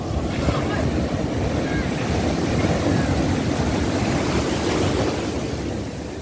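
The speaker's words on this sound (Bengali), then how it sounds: "পানির শব্দ" Sea waves wash in continuously at a beach in Cox's Bazar at sunset, with a steady, loud surf roar and wind buffeting the microphone throughout.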